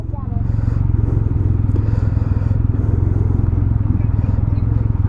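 A 2024 Can-Am Ryker Sport three-wheel motorcycle riding along, its engine a loud, steady low drone with a throbbing pulse that holds throughout, heard close up without clear talk.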